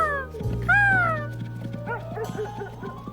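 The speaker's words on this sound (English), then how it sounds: "A dog barking. Woof, woof." A dog in a children's cartoon yips and barks in a short series of bright, close calls after a whining cry, over a steady low background hum.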